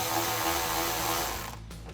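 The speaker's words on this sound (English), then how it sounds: "You can take that T20 Torx and tighten that down." A T20 Torx driver spins a factory screw into a headlight mounting point on a Jeep Wrangler JL, giving a steady close whirring, ratcheting grind for most of the moment before tapering off near the end.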